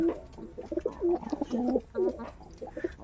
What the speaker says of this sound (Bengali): সব কবুতরগুলো আমার ফাঁকে আছে